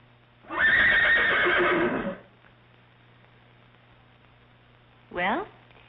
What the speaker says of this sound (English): Where is his horse?